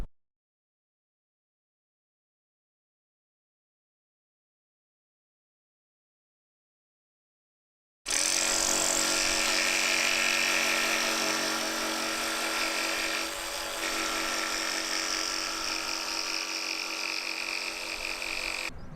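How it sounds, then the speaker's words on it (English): A power screwdriver drives screws through plywood floor panels inside a campervan being converted by hand, a steady close whirring drone that starts abruptly after a stretch of silence and runs on with little change. "having bought some screws, I can now screw the floor in place"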